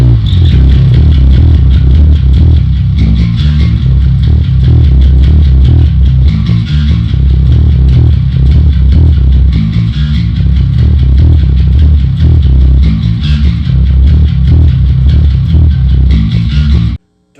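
Metal bass guitar driven through Darkglass and SansAmp pedals with a Donner Noise Killer at the end of the chain: a loud, heavily distorted, chugging riff that plays continuously on its own for the whole stretch.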